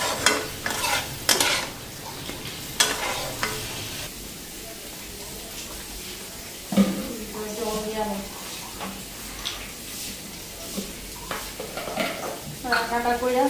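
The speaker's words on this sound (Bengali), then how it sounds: "এখন ভালো করে মশলাটা ভাজা নিই।" Spices frying for a dried hilsa head curry, stirred in a pan with repeated scraping strokes over a steady sizzle, close and fairly loud, with a person speaking at times.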